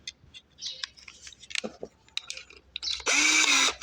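A power drill driving a screw whirs in a short, loud burst near the end, preceded by scattered clicks and handling noises close by.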